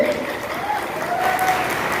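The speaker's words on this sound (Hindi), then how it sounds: "तो एक बार जोरदार ताली बजा दीजिए" A seated audience at a motivational talk gives loud, continuous applause, a dense wash of clapping that holds steady throughout with a faint voice underneath.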